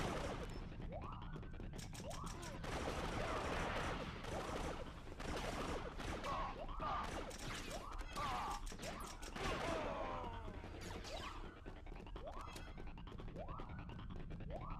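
Rapid pistol gunfire and blaster fire from the Star Wars Battlefront 2 video game crackle continuously with explosive crashes and chaotic battle noise, dense and loud throughout.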